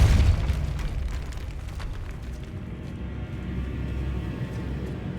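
A Depulso force spell cast in Hogwarts Legacy gives a loud, heavy boom at the start, followed by a low, rumbling game soundscape that lingers steadily to the end.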